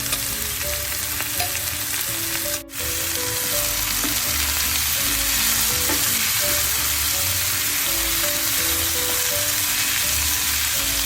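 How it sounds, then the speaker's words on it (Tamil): Squid pieces and tomato frying in a pan make a constant, loud sizzle with light stirring taps, broken once by a momentary dropout. "இந்த கணவாய் தக்காளி எல்லாம் ஒரு நல்லா 2 நிமிஷம் வதங்கி வைப்போம்."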